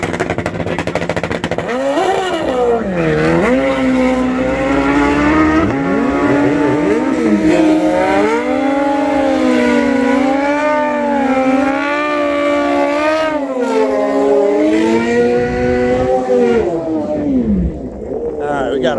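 A Suzuki GSXR 1000 and a Kawasaki ZX10R sport bike race down a drag strip. Their engines scream loudly, rising and falling through repeated up-shifts as they accelerate hard and close by, continuous for most of the stretch before easing off.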